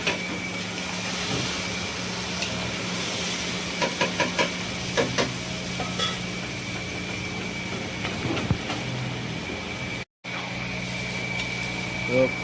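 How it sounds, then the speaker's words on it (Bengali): Chicken curry sizzles and steams in a pot in a kitchen, a steady loud hiss with scattered clinks and scrapes of stirring, while a person talks over it. "এখন আমি চিকেন কারি রান্না করছি, দেখতে পাচ্ছেন স্টাফের জন্য চিকেন কারি রান্না করছি।"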